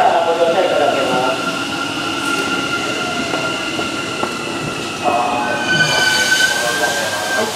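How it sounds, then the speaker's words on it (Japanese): A Hanshin train rolls into Amagasaki Station with a steady rumble, rising wheel squeal and metallic screeching toward the end, loud and close. "この後、6両編成の最終急行が到着し、当駅で点検作業を行います。"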